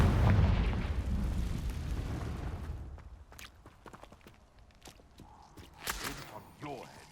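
A Confringo blasting spell goes off in Hogwarts Legacy as a loud, booming explosion with a deep rumble that fills the first few seconds, then fades into quieter scattered thuds and effects.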